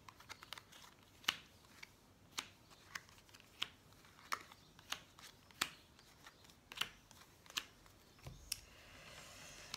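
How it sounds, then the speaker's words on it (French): Tarot cards laid out one by one for a nine-card spread, each placement a crisp slap or snap on a table, spaced at irregular intervals about a second apart, close and fairly quiet with no talking. "on va mettre ces cartes là sur le côté, voilà, et on va faire le tirage en 9 cartes."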